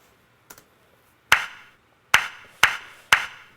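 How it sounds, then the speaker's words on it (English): A dry, basic clap sample without filter-delay stereo widening, heard as one faint tap followed by four sharp, close claps with short decays, spaced unevenly. "Let's go ahead and listen to this clap"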